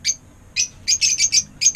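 Pet breeder birds with young chicks chirp in quick bright bursts: one short call, a pause, then a run of rapid repeated tweets. The calls are clear and close against a quiet background.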